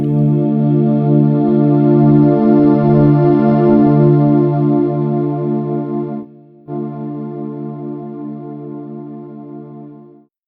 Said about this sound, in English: So now we're going to get a nice big reverb.